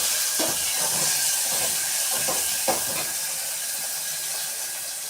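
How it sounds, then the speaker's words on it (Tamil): Tomatoes sautéing in a pan for Tamil vendakkai kara kuzhambu give a steady, close sizzling hiss throughout, with a few soft stirring knocks. "தக்காளி போட்டு நல்லா வதக்க போகிறோம்."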